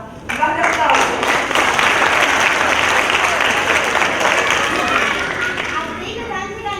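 Sustained audience applause at an Italian Neapolitan poetry and song performance, dense clapping from a large crowd holding steady and loud throughout, easing slightly at the end.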